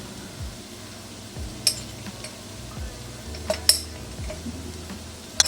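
A spoon scraping turmeric from the bottom of a spice jar while cooking: a few sharp metallic clicks and scrapes, close and brief, over a low, steady kitchen background.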